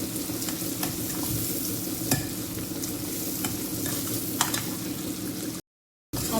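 Chopped onions with chili and ginger frying in a pan for pav bhaji, a continuous close sizzle broken by repeated scraping stirs, then a brief cut to silence near the end.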